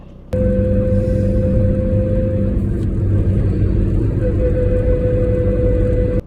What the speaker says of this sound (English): now it's making a horrible noise, and we think it's the diff bearing in the gearbox